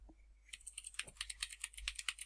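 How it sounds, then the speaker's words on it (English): Rapid computer keyboard clicking, a steady run of close, crisp keystrokes starting after a brief quiet moment, with no talking. "let's just listen to the clicks for a while."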